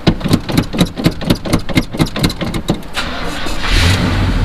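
A Chevrolet C10 truck engine cranks in cold weather with a rapid, rhythmic starter chug for about three seconds, then catches and settles into a loud, steady idle.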